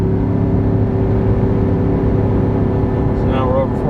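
A 2018 Chevrolet Silverado engine labors at high RPM while towing up the Fancy Gap grade, a loud, steady droning roar that runs throughout, with a brief voice near the end.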